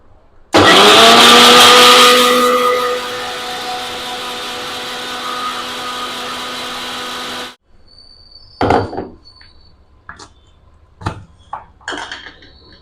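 A mixer grinder blends pumpkin kheer into a smooth paste: a loud, close motor whine starts sharply, settles and runs about seven seconds before cutting off, followed by a few scattered handling clunks and knocks.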